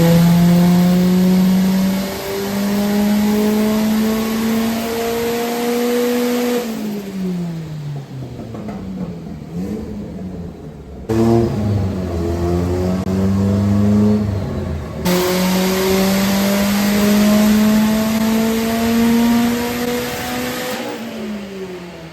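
A 450hp Ford Focus ST engine revs hard on a dyno under 20 psi of boost. The loud, sustained engine note climbs steadily, then drops back and surges again through repeated pulls, alone with no talk.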